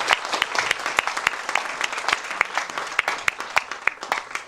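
A church congregation claps steadily during a worship service, dense overlapping applause with sharp individual hand claps standing out, sustained and fairly close, with no talking over it.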